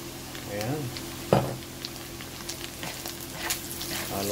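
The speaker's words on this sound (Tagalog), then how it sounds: "Pagkatapos po na igisa yung bawang, lagyan na natin yung sibuyas." Onion goes into a pan of sautéed garlic, sizzling steadily in hot oil with a sharp clatter of a spoon, while a voice speaks faintly in the background.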